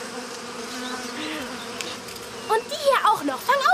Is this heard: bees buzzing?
yes